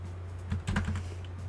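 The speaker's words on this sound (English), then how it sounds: "You just start typing." Keystrokes on a computer keyboard: a short cluster of light clicks in the middle, over a steady low electrical hum, with no voices.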